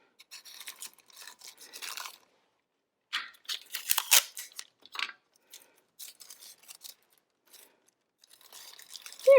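Adhesive tape being pulled and applied to a paper flame craft, heard as irregular crinkly tearing and rustling bursts of varying loudness with short pauses between them, fairly close and with no talking.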